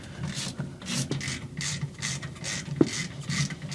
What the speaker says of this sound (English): my particular brake setup uses a 3/8" Allen key in order to remove the 2 caliper bolts